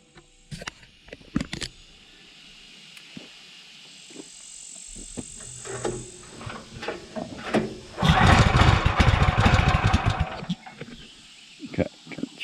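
A small gasoline engine on a Woodland Mills HM126 sawmill is pull-started with choke and throttle set, rattling clicks and pulls leading to a brief loud burst of running for a couple of seconds before it dies, with crickets in the background.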